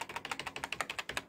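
Typing on an old HP 5181 keyboard gives a quick, even stream of crisp key clicks, about ten per second, close up and without any voices.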